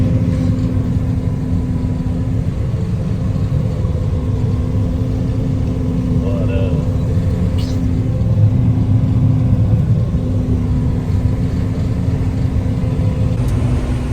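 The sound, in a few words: combine harvester engine running after restart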